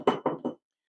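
An Aeropress coffee maker is knocked against a surface to empty it, giving three quick, close, solid thuds in an even rhythm before silence.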